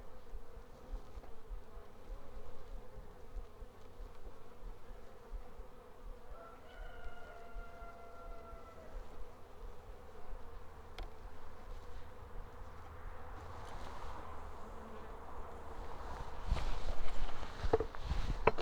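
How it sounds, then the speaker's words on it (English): Honey bees hum in a faint, steady drone around open hive frames on a homestead, with a few soft handling knocks and rustles and a louder shuffle near the end. "all the bees are working over here in this section right here"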